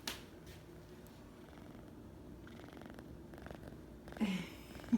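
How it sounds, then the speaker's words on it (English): A cat purrs quietly close to the microphone, a soft, low, continuous rumble with a couple of brief rustles and a faint high chirp near the end. "That's a quiet purr."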